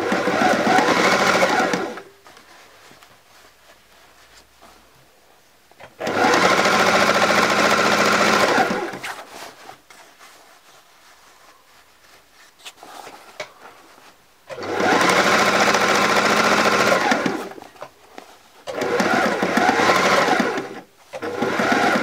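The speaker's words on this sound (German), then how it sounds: "Gut, dann machen wir uns einmal ans Nähen." A sewing machine stitches a drawstring storage bag for a hand puppet, running in loud sustained bursts of about two to four seconds separated by quiet pauses, close and without talk.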